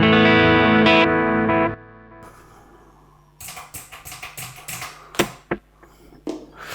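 A PRS SE Hollowbody McCarty F-hole electric guitar played through a compressor on its middle setting: a long ringing chord fades out, then a run of choppy, percussive picked notes and muted strums follows.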